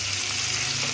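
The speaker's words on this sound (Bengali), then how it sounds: "আলুগুলো ভালো করে ভেজে নেব" Potatoes frying in a pan, a steady close hiss and sizzle filling a short moment without pause.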